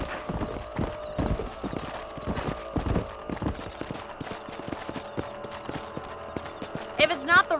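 Horse hooves clip-clop in a steady rhythm while riding across a ranch in the Red Dead Redemption video game, fairly close and loud, with a horse briefly whinnying near the end.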